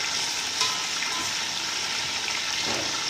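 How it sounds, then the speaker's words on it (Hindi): Bone-in chicken pieces fry in hot oil for a chicken nihari, giving a steady, dense sizzle with faint stirring that holds level and fairly loud throughout, with no voices. "ये देखिए, चिकन फ्राई हो रही है मेरी"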